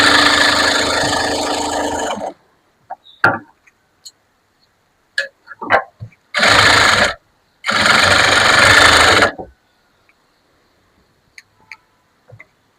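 A sewing machine stitching a high puff sleeve onto its lining, running in three loud, steady buzzing bursts, the first about two seconds and the others shorter, separated by quiet pauses with small handling clicks of fabric.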